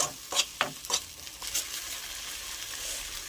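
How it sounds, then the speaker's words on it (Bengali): Shrimp head paste, ground with a little water, is fried dry in a pan, with a few sharp stirring scrapes at first, then a soft, quiet sizzle. "ভাজা ভাজা করে একটু শুকিয়ে নেব আমি"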